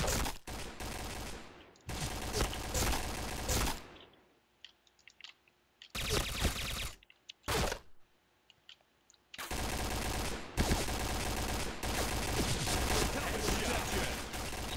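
A P90 submachine gun fires in rapid bursts in a shooter game, loud sharp volleys separated by quiet gaps with faint clicks, the longest stretches of sustained fire near the start and end.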